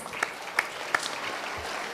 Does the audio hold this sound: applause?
yes